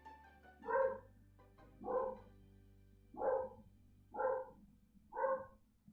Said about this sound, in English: You guys could probably hear my dog.